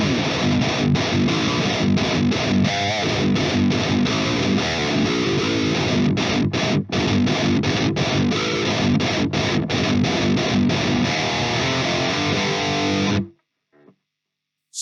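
Electric guitar through an Orange Dark Terror amp with a KSR Eros pedal, low-tuned, playing dense, heavily distorted chugging riffs loudly and continuously before cutting off abruptly near the end.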